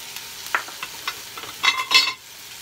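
Leeks going into olive oil in a small pot give off faint scattered crackles and stirring scrapes, with two louder bursts of sizzle near the end before things quiet down.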